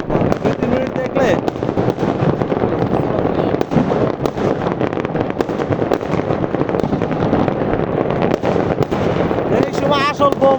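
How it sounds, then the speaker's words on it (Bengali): New Year firecrackers and homemade bombs burst in rapid, dense succession, loud and close, with people talking throughout. "এই সময় আসল বোমো ফুটায় আলাইরা, আসল বোমো ফুটায় গ্রেনেড।"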